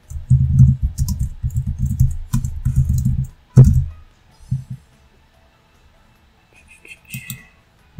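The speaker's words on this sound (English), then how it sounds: "type in the application" Bursts of quick computer-keyboard typing clatter in short runs, with a sharp key strike and a few scattered clicks before things go quiet, close and fairly loud.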